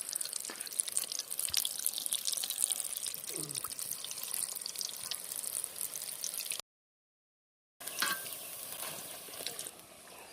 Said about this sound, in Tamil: நல்லா பார்த்திங்கன்னா போண்டா நல்லா புசு புசு புசுன்னு நல்லா பார்த்திங்கன்னா வெந்துட்டுருக்குது